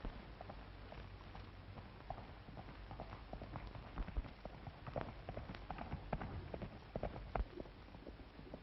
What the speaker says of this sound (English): Sure, we got him. Here comes his horse.